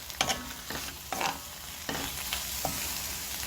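Shishito peppers stir-fried with garlic scapes and scallions in a pan without oil, giving a few scraping stirs and soft sizzling spurts over a steady low hiss, close up and with no talk.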